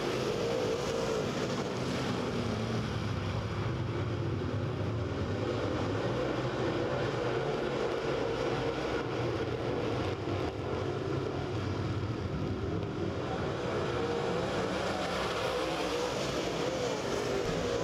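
Late model race cars at speed on the Lake Ozark Speedway oval, a steady, dense engine roar from a pack of cars running under green, continuous throughout with no talk.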